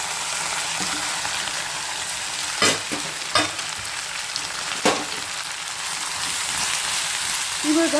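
Sliced bitter gourd palya fries in a pan over a gas stove: a steady, close sizzle runs throughout, broken by a few sharp clicks and scrapes from stirring.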